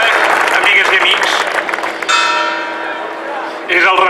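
Church bells ring loudly in the town square of Vic, their strong clanging peals overlapping and lingering with a sustained ringing tail.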